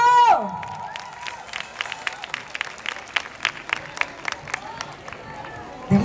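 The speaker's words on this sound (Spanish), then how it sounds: "¡Fuerte el aplauso!" Scattered applause from a small crowd at a Mother's Day festival prize ceremony, uneven claps rising and falling with light chatter underneath, fairly close.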